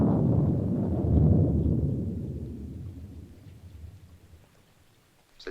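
Thunder rumbling over steady rain during a storm, a loud low roll that swells then slowly fades into the rain's hiss.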